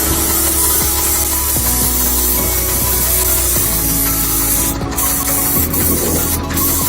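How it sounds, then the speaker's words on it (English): An airless paint sprayer sprays a dilapidated wall, a loud continuous close hiss over a steady mechanical pump hum, with the pitch of the pump shifting in steps throughout. "Watch this skilled painter use an airless sprayer to restore this dilapidated wall."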